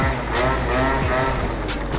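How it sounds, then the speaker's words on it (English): Cars in street traffic rumble past close by, one after another, with engine drone and tire noise filling the short stretch. "Traffic."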